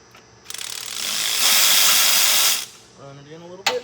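A ratcheting wrench runs in an exhaust manifold bolt on a 24v Cummins diesel engine, with a loud sustained whirring burst of mechanical clicking, followed by a quieter pause, a brief rising squeak and a sharp final click.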